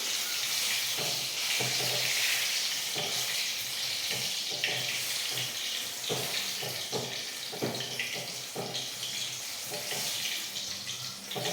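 Food frying on a low flame in a pan gives a steady, soft, hissing sizzle that holds throughout, with scattered small crackles and a few faint handling knocks near the microphone.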